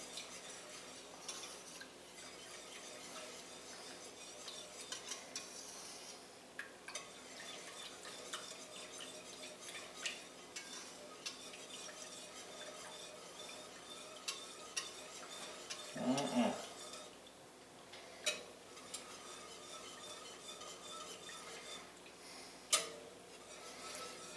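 A long-handled whisk works a milk-based sauce in a pot for Greek lasagna, producing soft continuous scraping and stirring with scattered metallic clicks and taps, quiet and close, without talk.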